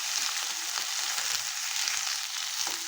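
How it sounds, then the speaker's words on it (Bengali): Potato and bitter gourd frying in a pan, a constant hiss of sizzling oil with occasional soft scrapes of stirring over it, close by and even in level. "আলু উচ্ছে দেওয়া হয়ে গেছে, এখন ভালো করে নেড়ে নেবো।"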